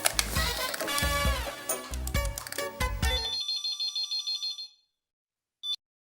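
A phone's electronic ringtone plays a busy melodic tune that thins to a repeated beeping pattern, then stops, followed by one short final beep.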